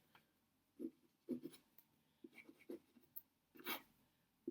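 A Cross Beverly fountain pen nib scratches across paper while writing out a pangram, giving a run of short, close strokes in an uneven rhythm, some louder than others, with no talking.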